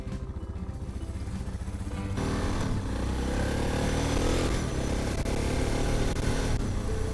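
A Suzuki DR650 dual-sport motorcycle ridden on the road, engine drone close and continuous, rising as it accelerates, with wind rush over it.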